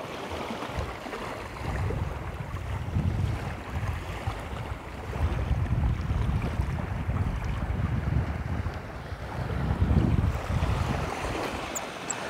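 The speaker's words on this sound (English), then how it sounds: "There's a heap of water flowing through here as this tide comes in." Incoming tide water rushing through a shallow channel, a continuous, rumbling wash of flowing water mixed with wind buffeting on the microphone, swelling and easing in slow surges over several seconds, with no voices.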